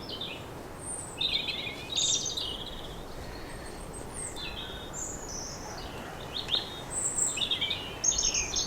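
Birds call repeatedly from the New Forest woodland near New Milton, bright chirps and short song phrases of robins, wrens and goldcrests coming in scattered bursts, moderately near, over a soft steady background hiss.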